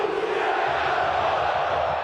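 Football fans in the stands at Maracanã stadium roar and applaud in a dense, steady wash of crowd noise, broad and continuous with no single voice standing out.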